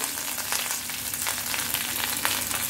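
A dried red chili fries in leftover ghee in a pan after meat has been cooked and removed, giving a steady, close crackling sizzle with small bursts of popping and no talk.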